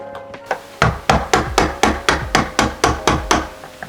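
A hammer knocks out a door lock's hinge pin about a dozen times in a steady, quick rhythm, each knock sharp and close, after a couple of lighter taps.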